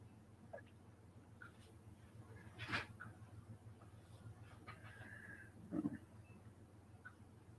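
Chickens cluck faintly outdoors, with a few short distant calls over a low steady background hum.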